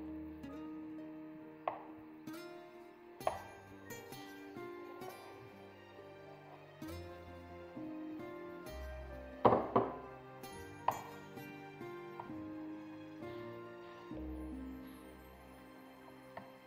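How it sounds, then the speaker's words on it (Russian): A knife chops boiled eggs on a cutting board, sparse sharp taps at irregular intervals, close and fairly quiet, with soft background music. "Нарезаем яйца."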